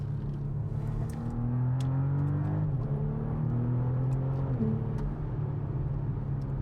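BMW X3 M50, a 2025 model, revving hard in sport mode with gears shifted manually: a steady, loud engine drone climbs in pitch, dips sharply at each of two upshifts near the middle, then pulls up again, with no talk over it.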